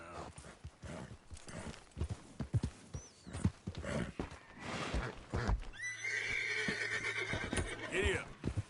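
A horse neighing with hooves clip-clopping in Red Dead Redemption 2, rhythmic hoofbeats followed by a loud drawn-out whinny, with a voice speaking over parts of it.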